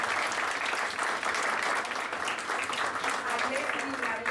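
Sustained audience applause at an academic cataloguing and metadata conference session, steady and moderately loud throughout while certificates are handed out, with faint voices mixed in beneath the clapping.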